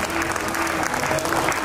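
School annual day audience applauds a prize-winning student, a brief, even burst of many hands clapping at moderate volume with a faint steady tone beneath.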